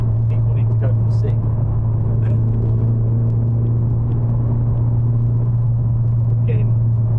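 Engine and road drone inside a moving Toyota Celica GT4 or Mitsubishi TME RS with five-speed gearboxes, a constant loud low rumble filling the cabin, with someone talking over it.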